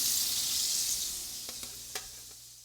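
Chicken browning in a hot skillet with a steady, close sizzle that softens slightly over a few seconds, broken by a few small pops and clicks.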